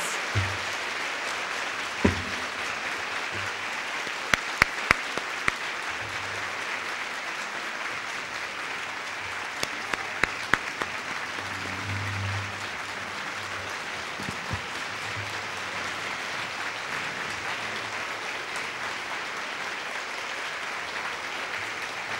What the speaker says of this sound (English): I'd like to give all the students another round of applause who put together these terrific presentations